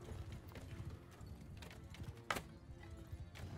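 Horse hooves clip-clop in a steady galloping rhythm during a Bannerlord battle, with one brief sharper whinny-like burst in the middle, all fairly faint and continuous.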